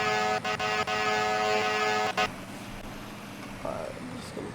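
A loud, blaring fire engine air horn sounds in long steady blasts with brief gaps for about two seconds, then cuts off, leaving engine rumble and faint traffic.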